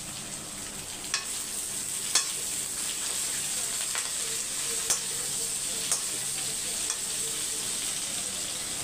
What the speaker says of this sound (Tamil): புளி சேர்த்து வதக்கிக்கலாம்.